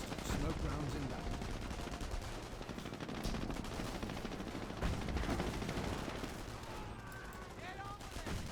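Dense gunfire rattles through a Company of Heroes battle, continuous loud bursts of rifle and machine-gun fire with distant blasts, while game voices call out over the din.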